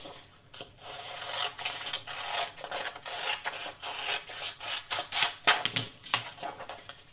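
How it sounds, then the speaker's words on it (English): Sublimation paper wrapped around a mug is trimmed with repeated rasping, scraping strokes in an uneven rhythm, close and moderately quiet, with no voices. "I'm going to trim the sides because I know this is too large"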